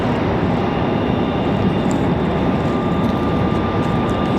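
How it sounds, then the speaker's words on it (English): An Airbus A321 jet climbing out after takeoff at Raleigh-Durham International Airport produces a loud, steady engine roar with a faint tonal whine, continuous and unbroken throughout. "May not be too many passengers on board that A321, if any."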